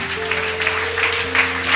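A church congregation claps in praise during a Malayalam Christian service, a brief burst of steady applause over a sustained musical tone in the background.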